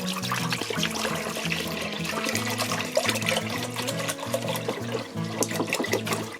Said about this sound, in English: you want to add in your milk